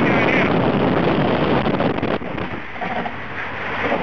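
Strong wind batters the microphone on the Pacific Ocean shore, a loud continuous roaring rumble with gusty swells that eases slightly partway through; no clear talk is heard.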